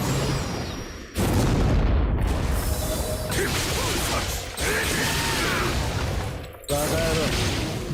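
Loud explosions and crashing impacts from Bleach: Brave Souls come in several abrupt bursts, separated by sharp cuts, with chaotic mechanical and boom sounds filling the mix.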